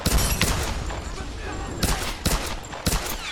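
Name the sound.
gunfire in the Tomb Raider video game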